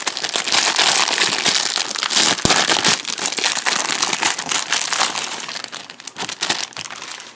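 Plastic wrappers on Topolino comic sticker packets are torn open and handled, filling the space with continuous close, loud crinkling and crackling, with a few sharper snaps along the way.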